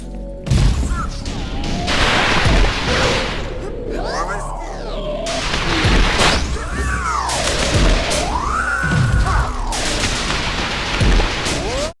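An arm cannon in a video game fires blasts that smash through walls, floors and ceilings, giving a dense run of loud crashes and thuds with sweeping synthetic tones over about twelve seconds, with no voice in between.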